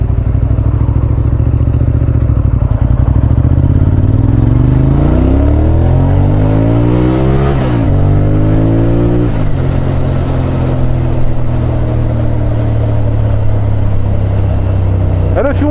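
A car accelerating along a 50 km/h road, its engine tone rising through gear changes with sweeping pitch shifts, loud and steady throughout with no talk.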